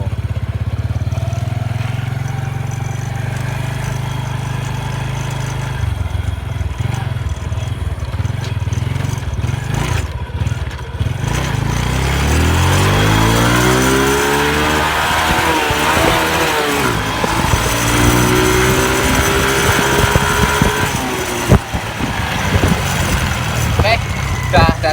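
A Honda Revo 110 motorcycle engine on a short test ride after clutch plate work, starting at a low idle, then revving up and down in rising and falling sweeps, loud and close, with occasional voices.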